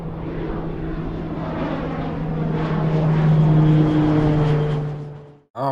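An airplane sound effect: a steady propeller-engine drone that slowly swells in loudness as it passes, then cuts off abruptly, with no voices.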